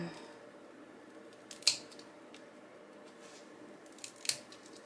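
Scissors snip twice while cutting material for a carrot-shaped Easter craft pot, two short, faint, close crisp cuts against a quiet indoor background.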